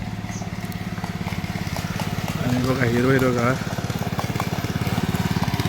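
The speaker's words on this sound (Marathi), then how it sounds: "आणि ह्या साईड ते दुसरीकडे चालले ट्रॅक्टर." A tractor engine chugs steadily in a green paddy field, a close, rhythmic low throb that swells briefly while someone talks over it.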